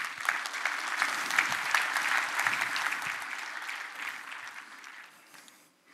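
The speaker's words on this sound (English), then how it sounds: "So give a big applause to Andre." A conference crowd at a tech event claps for a presenter named Andre coming on stage, a full burst of applause that holds strong and then thins and fades away toward the end.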